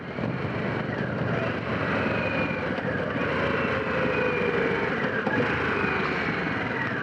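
A 2021 Harley-Davidson Pan America Special motorcycle engine drones steadily while riding in first gear, a continuous loud rumble mixed with wind noise that holds for several seconds without a break.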